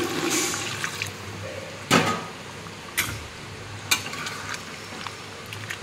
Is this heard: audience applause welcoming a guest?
no